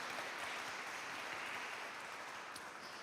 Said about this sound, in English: Give Bobby a round of applause